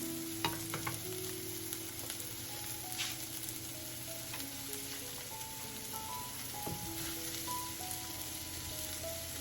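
Onions frying in a pan before broccoli goes in for a vegan cauliflower fried rice, a steady soft sizzle with occasional stirring clicks and a faint background hum.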